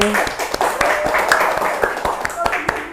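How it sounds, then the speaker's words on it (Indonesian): Audience clapping at a university economics and Islamic business talk event, a room of hands producing distinct sharp claps in an uneven rhythm, fairly close and loud, with a voice briefly heard underneath. "Tepuk tangan dong."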